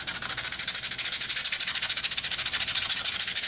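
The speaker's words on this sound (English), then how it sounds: "And just give it a little sanding job." Hand sanding of a wooden craft piece along the grain, a steady rhythmic back-and-forth rasp of many quick even strokes, close and fairly loud with no talking.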